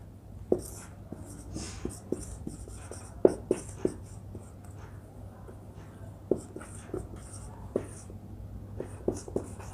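A pen or marker writes out a statistics formula, making repeated scratchy strokes and taps in an irregular rhythm, close and fairly quiet, with no talking.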